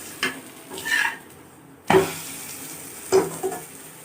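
Adai batter made with banana flower and drumstick leaves sizzles on a hot pan, with three sharp bursts of frying as batter hits the pan or is stirred, each fading into a quiet hiss; close and clear, no talking.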